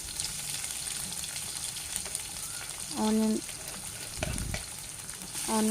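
Onion, green chillies, curry leaves and cumin seeds fry in hot oil with a soft, steady sizzle and light stirring, broken by two brief tonal sounds.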